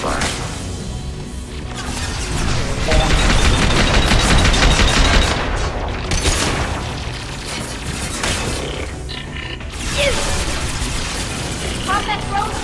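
Sustained gunfire and crashing impacts from a firefight in the video game Mass Effect 2, loud and dense with bursts over several seconds, mixed under radio-style voices and game chatter.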